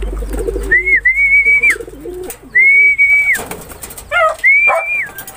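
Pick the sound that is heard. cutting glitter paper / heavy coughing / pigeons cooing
pigeons cooing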